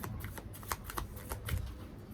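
Tarot cards shuffled by hand at close range, a run of soft riffling flutters and sharp card snaps, fairly quiet and with no voice over them.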